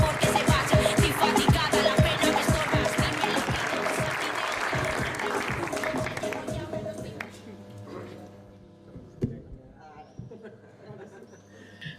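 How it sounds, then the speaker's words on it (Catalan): Audience applause at an award ceremony in Novelda, a dense crowd clapping for several seconds before thinning out and fading, with a voice talking over it. "Fort l'aplaudiment, per favor."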